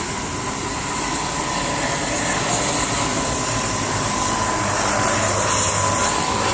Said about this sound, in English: This is a jet-powered helicopter.